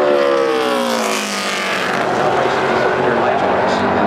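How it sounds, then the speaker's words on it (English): A NASCAR Camping World Truck Series race truck in Texaco Havoline colors roars along the Phoenix racetrack, its loud engine note shifting as it passes close, with crowd and track noise steady underneath. "Juan Pablo Montoya now on the racetrack, bringing Texaco Havoline down to take the white flag"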